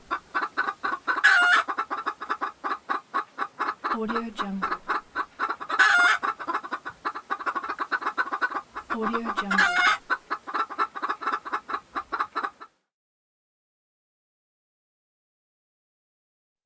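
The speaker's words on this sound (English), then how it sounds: "Chickens cluck." Chickens cluck loudly and rapidly in dense, repeated bursts, with a few louder squawks standing out, for about twelve seconds before stopping abruptly; a voice briefly speaks over them.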